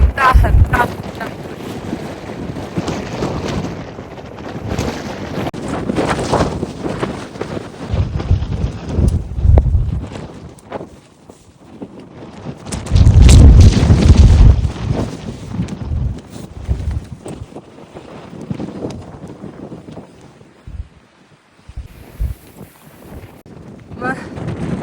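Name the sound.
strong wind blowing on a Norwegian mountain at Kjeragbolten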